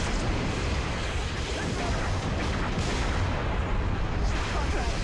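Missile explosions in the video game Halo: Reach, a dense continuous roar of blasts and rumbling gunfire that fills the scene with no pause, loud and close.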